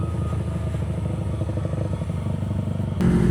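A motorcycle engine runs steadily and close, with a rough, clattering low rumble that swells louder near the end, no voices.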